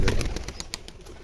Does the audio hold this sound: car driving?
no